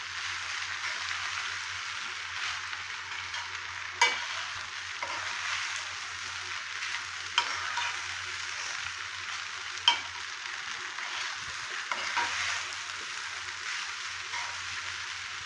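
Soaked poha fries and sizzles softly in a pan as a spoon stirs it, a steady quiet crackle broken by a few sharp scraping knocks.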